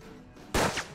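A single loud, sharp gunshot blast in the video game Hard West bursts out after a quiet stretch, with a brief echoing tail.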